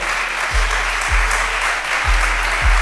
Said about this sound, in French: je demande un maximum d'applaudissements